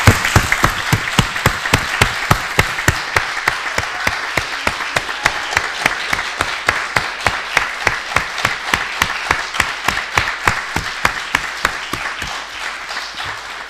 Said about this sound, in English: So we would like to offer you a second round of applause and blessing and support.